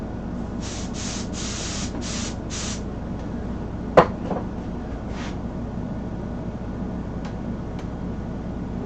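Several short hissing bursts of spray applied to a latex mask mold, about five quick puffs in a row, then a sharp knock and a single later spray burst over a quiet room hum.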